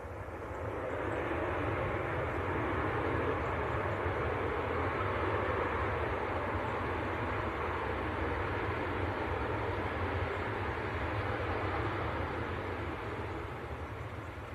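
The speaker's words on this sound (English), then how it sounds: "Yeah, the Qatar taxiing out, A350." A Qatar Airways Airbus A350 taxis at Manchester Airport, its engines giving a steady, unbroken roar that holds at an even level the whole time, with no voices over it.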